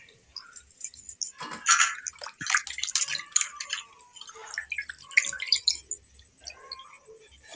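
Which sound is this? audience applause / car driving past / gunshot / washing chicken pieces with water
washing chicken pieces with water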